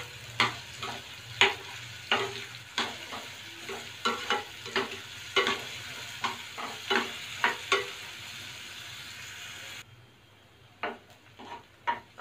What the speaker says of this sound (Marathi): कांदा आपल्याला छान मऊ होईपर्यंत परतून घ्यायचा आहे.